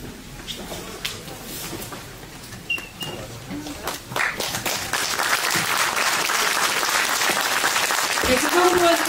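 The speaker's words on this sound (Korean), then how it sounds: "여러분 큰 박수로 환영해주세요" An audience at a book concert applauds as lawmaker Cho Jung-hoon enters. Scattered voices and a few claps come first, then dense, loud clapping builds and holds to the end.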